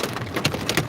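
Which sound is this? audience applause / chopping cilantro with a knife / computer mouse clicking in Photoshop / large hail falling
large hail falling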